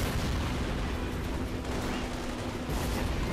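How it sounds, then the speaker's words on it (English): Continuous loud gunfire in The Saboteur as soldiers fire at each other, a dense unbroken rattle of shots and booms running throughout, alone with no talking. "Now the Nazis are shooting each other."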